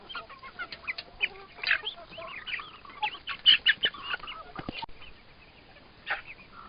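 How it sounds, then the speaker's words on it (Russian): Young hens, half-bred from bantams, cluck and chatter in a farm poultry yard, with a steady run of short, close, overlapping clucks and calls throughout. "А это молодые курочки из первого выводка."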